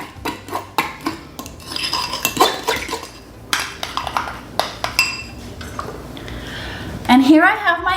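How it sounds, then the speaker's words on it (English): Egg yolk being stirred with mustard and vinegar in a bowl for deviled eggs, a run of utensil clinks and scrapes against the dish, close and fairly loud, ending with a brief squeak. "now I'm just going to stir these up."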